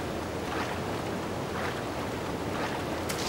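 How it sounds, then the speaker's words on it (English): Dense, steady roar of rushing water from a waterfall in Zelda Breath of the Wild, loud and continuous throughout as the character swims up it, with no voices over it. "I feel like the waterfall's just gonna push me back if I try and swim up it"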